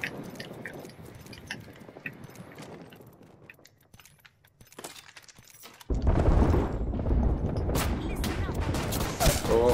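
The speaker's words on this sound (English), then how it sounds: "I'm dropping an aerial bombardment." An aerial bombardment lands in Apex Legends: after a quieter stretch of scattered game noise, a dense, loud barrage of crackling blasts and shattering impacts suddenly erupts and keeps going.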